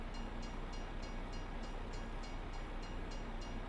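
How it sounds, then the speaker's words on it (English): Train passing in the Farming Simulator video game, a steady rail rumble heard faintly at a distance, with a thin repeated clicking and a faint tone running continuously throughout. "Oh, that's the train."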